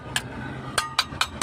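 Hollow taps on an empty diesel fuel filter of a Caterpillar D6R2 bulldozer, five sharp metallic knocks at uneven intervals, close and clear over a low steady hum.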